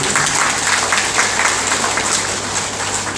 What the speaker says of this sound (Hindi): ताली तो बजाइए पार्वती के।